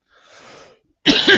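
A faint breathy sound, then a single sharp, loud cough close to the microphone.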